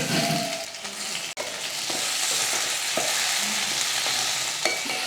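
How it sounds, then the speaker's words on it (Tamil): Onion, garlic, curry leaves and tomatoes sauté in a pan for a spicy chutney, making a close, steady sizzle broken by a few clicks and scrapes as the mixture is stirred. "வெங்காயம் பாருங்கள் இந்த அளவுக்கு நல்லா வதங்கினதுக்கப்புறமா இதில் ஒரு ரெண்டு தக்காளி சேர்த்துக்கலாம்"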